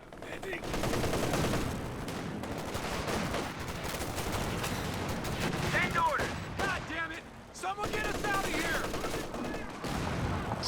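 Dense, sustained gunfire from Stormtrooper infantry in Company of Heroes 2 rattles on continuously amid a busy battle mix, with a commentator's voice layered over the shooting.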